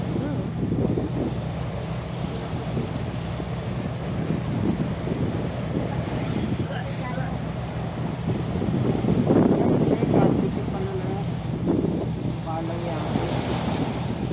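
Steady wind and surf noise with the rumble of a small boat moving over the sea off Mindoro, occasional knocks and splashes, and faint voices now and then.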